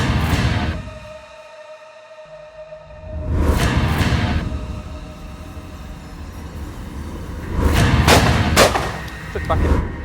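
A Krieghoff K80 Supersport shotgun fires on a parcours course: three loud, sharp reports spaced a few seconds apart, each with a ringing decay, with some speech in between.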